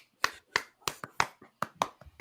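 A few sharp, separate hand claps at an uneven pace, close and fairly quiet, like a small polite golf clap from one or two people in a quiet room.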